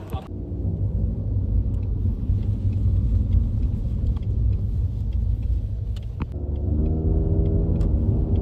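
A car drives along a road with a steady low rumble of engine and tyres heard from inside, continuous and fairly loud, with a faint voice briefly near the end.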